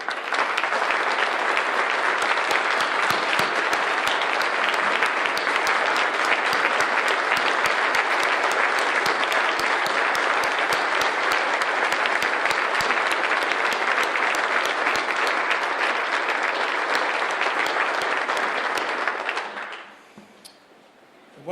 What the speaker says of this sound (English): Could we turn the lights up and could they stand and receive applause?